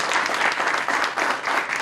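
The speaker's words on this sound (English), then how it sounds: "We can give Gwen another round of applause." Audience applause at a Safeway groundbreaking ceremony at University Town Center, a steady wash of many hands clapping throughout, moderately loud and continuous with no talking over it.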